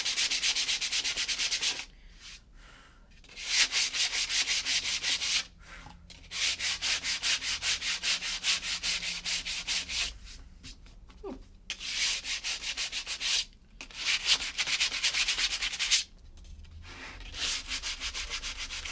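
Steady scratchy rubbing of sandpaper on a wooden pizza board, close and fairly loud, in long back-and-forth bursts separated by a few short pauses.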